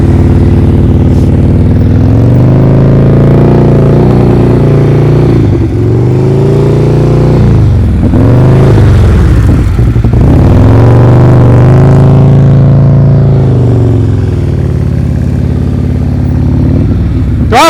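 Motorcycle engine held at low throttle during advanced slow-speed riding practice, loud and close, with the engine note rising and falling as the throttle is blipped and eased through tight turns, no talk.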